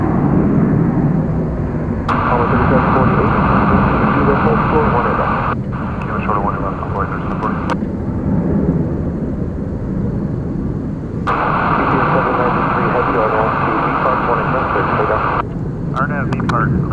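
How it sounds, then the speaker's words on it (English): An Airbus A321 jet airliner on a DFW Airport runway produces a loud, continuous roaring rumble with rising and falling layers of engine noise. "It's an Airbus A321."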